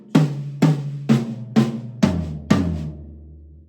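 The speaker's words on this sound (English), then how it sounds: "playing eighth notes around the kit as a fill" Six even drum hits step down around the toms from high to low in an eighth-note fill on a drum kit. The last low tom rings out alone at the end.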